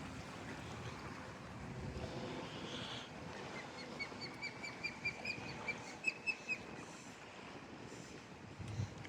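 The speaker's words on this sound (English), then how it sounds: "Osprey's not so happy we're walking out here." An osprey calls near a wooden dock and boardwalk by the water, a run of sharp, piping chirps repeating over wind and lapping waves.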